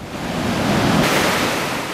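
Ocean surf rolling in on a shore, storm-generated swell arriving on a calm day, heard as a steady broadband wash with wind noise on the microphone, swelling slightly near the middle and holding fairly loud throughout.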